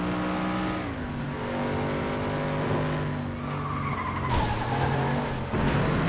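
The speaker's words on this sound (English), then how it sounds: "As I crash through a diner." Car in FlatOut 2 skidding and smashing through a roadside diner, engine whine dropping as tires squeal, then a sudden burst of crashing noise near the end, loud and close.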